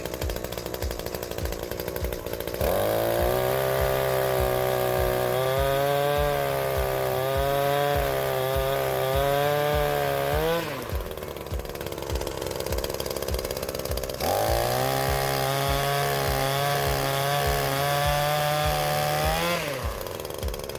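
A small pole chainsaw engine revs up and holds a high whine while cutting maple branches, drops to idle, then revs and cuts again.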